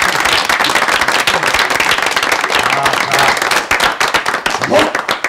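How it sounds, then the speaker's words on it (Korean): A crowd gathered for a lively neighborhood farewell party applauds, dense continuous clapping that runs loud and unbroken before thinning slightly at the end, with voices mixed in beneath it. "박수! 박수!"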